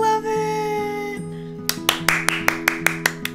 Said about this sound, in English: Round of freaking applause.